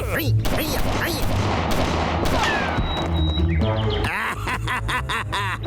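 Cartoon gunfire from a Bengali animated comedy fires in a loud, rapid burst of shots and booms, mixed with zany squawks and sound effects under excited character voices.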